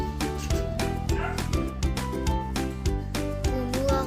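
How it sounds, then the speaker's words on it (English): A small dog yips and barks in quick, repeated high-pitched bursts, rhythmic and fairly close, with a squeaky, toy-like quality. "Puppy."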